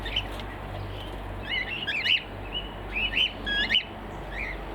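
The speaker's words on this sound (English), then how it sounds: "chasing each other around and squawking, doing what cockatiels love to do" Several cockatiels squawking and chirping in short, sharp bursts as they chase each other around, fairly close over a steady low background hum.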